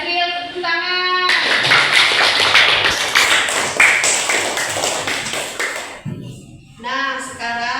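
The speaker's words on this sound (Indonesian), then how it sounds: "Tepuk tangan." A classroom of students bursts into a long, dense round of clapping that lasts most of the clip, framed by a teacher's voice speaking before and after.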